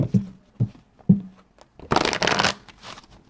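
Tarot cards are handled and shuffled for a reading, with a few soft taps followed by a close, crisp riffle of cards lasting about half a second.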